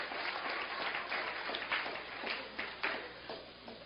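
Many audience members at an evening lecture keep clapping, a dense patter of hands with a few sharper individual claps standing out, tapering slightly toward the end.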